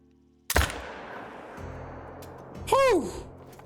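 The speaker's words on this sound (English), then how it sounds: "I'm going to bust out the AR with the Hyperion scope here and see if we can't make a nice shot on him" A single sharp AR rifle shot fired through a scope while hunting in the Call of the Wild video game, a loud crack with a long fading echo, followed by a rising whooping voice.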